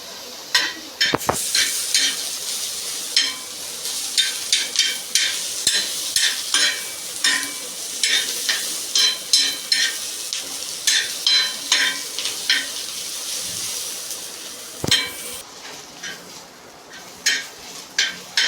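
Chopped onion frying in a pan for a green peas amti, stirred with a spatula in quick repeated scrapes over a steady close sizzle, the strokes coming in bursts and pauses.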